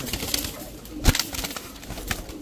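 Pigeons at a breeder's loft, including Pakistani and Royal Teddy birds, give low cooing calls amid a busy, close background with a sharp knock and flutter partway through.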